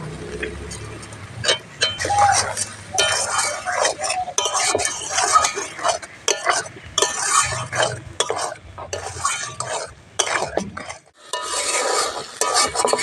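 Potatoes and spices, including Kashmiri chilli powder and a little sugar, are sautéed in a pan with repeated scraping and stirring strokes of a utensil against metal, close and busy, with faint sizzling underneath.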